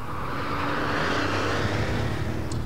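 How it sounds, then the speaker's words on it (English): An air-cooled six-cylinder engine in a 30-year-old Porsche 964 runs with a loud, steady, close throbbing drone that stays constant throughout, with no speech. "listening to the cackle of that wonderful air-cooled six-cylinder engine"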